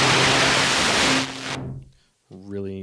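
A loud burst of broadband noise from a West Coast synthesizer's noise waveform hisses for over a second, then cuts off, followed by a short harmonic synth tone.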